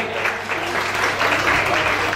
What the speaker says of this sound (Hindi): एक दफा और जोरदार तालियां